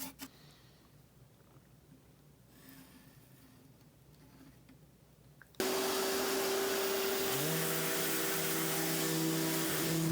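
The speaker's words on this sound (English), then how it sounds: "Little bit of level sanding." After a few seconds of quiet room sound, a power sander fitted with 150-grit paper switches on abruptly for level sanding of a custom guitar's binding, running with a loud, steady whir that holds to the end.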